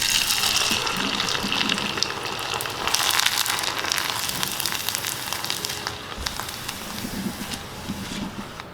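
Rice kurwadi deep frying in hot oil gives a steady, dense sizzle and bubbling crackle that carries through the whole stretch, fairly close and loud with no talking.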